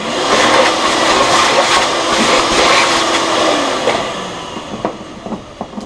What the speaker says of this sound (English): One more final vacuum.